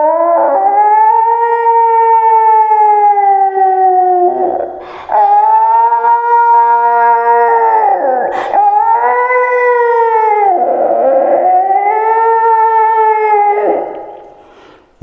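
A human voice imitates a pack of dogs howling, rendered as long sustained wavering howls with breaks in between, loud and close, running for about fifteen seconds.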